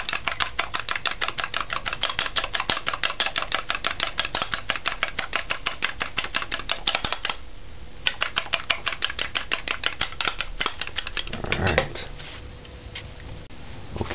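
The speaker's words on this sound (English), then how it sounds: "Just beat it with a whisk or a fork" A whisk or fork beats eggs for scrambled eggs in a fast, even run of close, crisp ticking strokes that pauses briefly, resumes, then fades into a softer stir.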